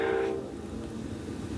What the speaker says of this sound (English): And here's a train coming